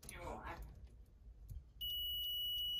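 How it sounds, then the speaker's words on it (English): A multimeter continuity tester sounds a steady high electronic beep while checking a broken submersible well pump wire, starting abruptly after a short spoken word and holding on to the end. "Oh, there's continuity."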